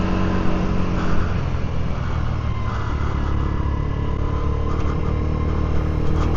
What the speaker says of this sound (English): Let's go and test ride this Mash Scrambler 50.